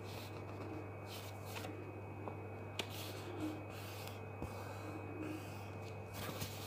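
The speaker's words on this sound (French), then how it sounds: "vous venez plier votre papier" A sheet of 30×30 cm scrapbooking paper being folded by hand, faint rustling and soft creasing scrapes with a few small taps over quiet room hiss.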